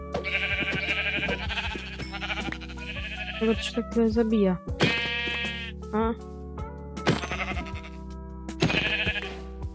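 Sheep in the video game Minecraft bleat repeatedly in short wavering calls, several in a row with gaps between, while someone talks over them.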